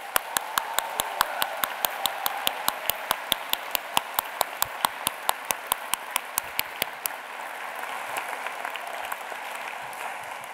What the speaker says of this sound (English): give a warm round of applause to all of the friends and families joining us this afternoon